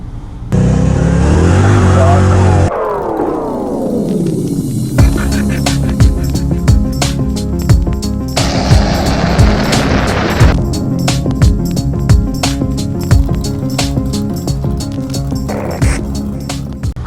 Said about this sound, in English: Today we're going to take the Fox body out, drive it